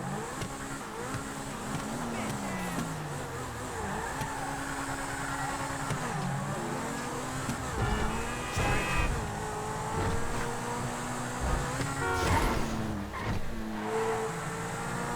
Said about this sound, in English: default Pegassi sound effect 1 is the exhaust note for this thing for sure